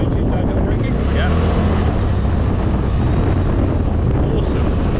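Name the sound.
Polaris RZR engine braking downhill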